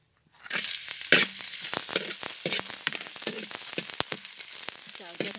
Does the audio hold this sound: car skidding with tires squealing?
no